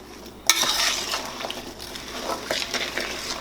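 Fresh cranberries cooking in a pan for homemade cranberry sauce, with soft crackling and light clinks of a utensil against the pan, moderately close, no talking.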